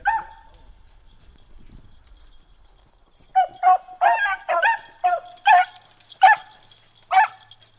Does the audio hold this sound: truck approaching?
no